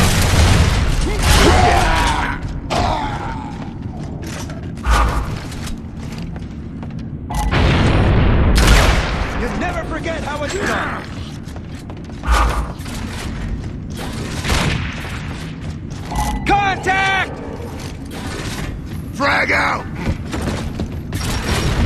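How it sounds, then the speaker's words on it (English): A frag grenade blast and rapid gunfire from the video game Gears of War: Judgment, with loud booms and bursts of shooting scattered through a busy battle, mixed with mechanical clanks and voices calling out. "Incoming frag!"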